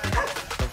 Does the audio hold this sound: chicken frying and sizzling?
no